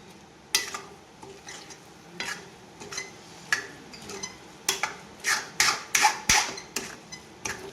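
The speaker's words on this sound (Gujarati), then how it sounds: "હલાવતા રહેજો, નકર નીચેથી ચોંટી જશે" Spoon scraping and stirring sabudana khichdi in a pan with red chilli powder added, a steady run of close scrapes that grow louder and quicker toward the end, with faint sizzling beneath.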